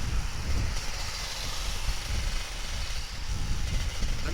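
Kawasaki Ninja RR 150 motorcycle engine running continuously while riding on a morning ride, a steady loud drone mixed with broad wind roar throughout.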